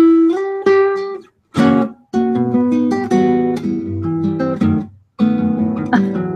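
Classical guitar playing Villa-Lobos's Choros No. 1, with bright plucked melodic phrases over bass notes, broken by brief pauses and played up close.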